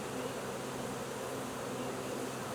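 Honey bees buzz around hives in a dense, steady drone, continuous and fairly close.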